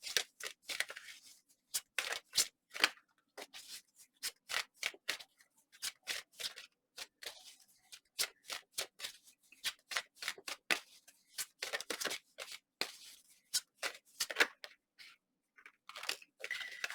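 Tarot cards being shuffled and drawn during a reading, rapid bursts of crisp riffling and snapping card sounds repeated throughout, close and fairly quiet, with no talking.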